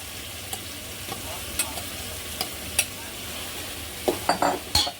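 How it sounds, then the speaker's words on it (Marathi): Egg biryani with fried eggs being stirred in a pan: a steady low sizzle with scattered scraping clicks of the spoon, building to a cluster of sharper scrapes near the end, with no talking. "मिक्स करायचं आणि याच्यात जे आपण तळून घेतलेली फ्राय केलेली अंडी आहेत ना ते सुद्धा याच्यात टाकून घ्यायचे"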